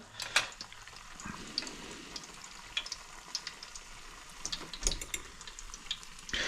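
Gurnard and snapper fillets simmer in a pan, giving a faint, steady bubbling and sizzle with scattered soft crackles and pops, no voices.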